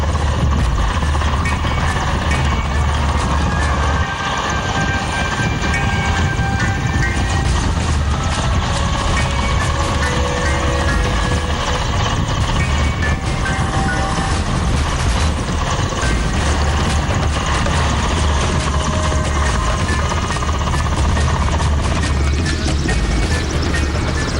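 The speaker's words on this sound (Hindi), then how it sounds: "भूकंप प्रभावित इलाकों में MI-17 हेलीकॉप्टर के जरिए लोगों को एयरलिफ्ट करने की मॉक ड्रिल भी हुई" Indian Air Force MI-17 military helicopter during an earthquake rescue mock drill airlift, a loud, constant rotor and turbine roar throughout, close and unbroken.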